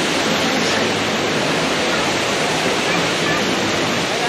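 Tirathgarh waterfall in Jagdalpur, Chhattisgarh, with water falling from above in a constant, close, loud roar of rushing water that stays even and unbroken throughout.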